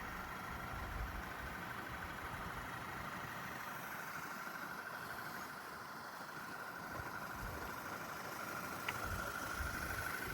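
A 2.0-litre Audi A4 with a six-speed manual runs steadily during a night drive, its engine giving a constant close, moderately loud drone with a low rumble throughout and no talking.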